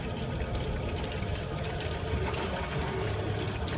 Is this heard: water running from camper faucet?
yes